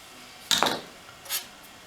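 A bracket is worked off an old ignition coil from a 1976 Wheel Horse C120 lawn tractor, heard as two brief, sharp metallic clinks close by amid quiet.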